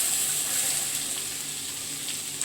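Beans, shallots, garlic and chillies sizzle steadily in a hot pan, a dense continuous frying hiss at close range with no voices.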